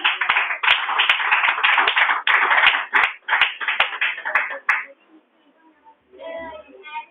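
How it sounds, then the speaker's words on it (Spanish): Church congregation applauding at an evangelical worship service, a dense loud clapping that runs for about five seconds with brief gaps, then drops away as a voice speaks faintly at the end. "Denle un fuerte aplauso a Jesús"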